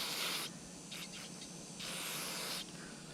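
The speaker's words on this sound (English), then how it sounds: "You can use a brake cleaner to clean off all your parts." Brake cleaner sprayed from an aerosol can onto the parts of a 2006 Yamaha XT225 dual sport motorcycle during an oil change, two long hissing bursts separated by short stuttering sprays, close and steady.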